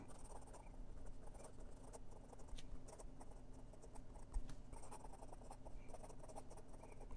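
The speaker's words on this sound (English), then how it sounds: "And some quick writing." A 1947 Sheaffer Triumph Crest Tuckaway fountain pen moving quickly across paper, giving faint, close scratchy strokes in irregular bursts over a low steady background hiss, with no voices.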